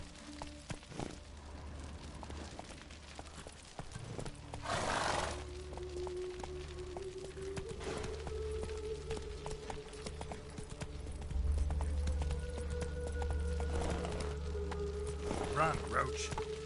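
A horse gallops in The Witcher 3 video game, steady clip-clopping hoofbeats running under game music and a voice.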